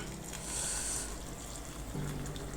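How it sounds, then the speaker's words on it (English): Boiled water is poured into a teacup holding hibiscus and cloves to make tea, a brief soft splashing pour close by with no voices. "So I'll go ahead and add some boiled water."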